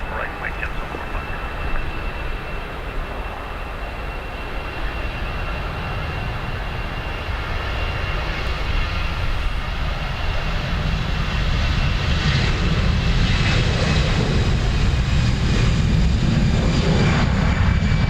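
An airliner departing a runway at Dublin Airport gives a loud continuous roar of jet engines that builds and deepens over the span, heard from a spotting spot, with faint radio chatter early on.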